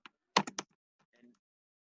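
Quick computer keyboard typing while writing code, a short cluster of sharp, close key clicks followed by a few fainter taps, then quiet.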